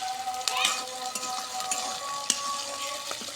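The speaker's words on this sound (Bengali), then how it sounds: "পেঁয়াজটা আমরা একটু আগে ভাজে নিই।" Chopped onion fries in oil with cinnamon, black and white cardamom and bay leaf, a moderate sizzle broken by scraping stirs and clinks of a utensil against the pan.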